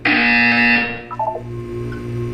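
In the video game Portal 2, a loud harsh buzzer sounds alone for about a second and then cuts off, followed by a few soft electronic blips and a low hum.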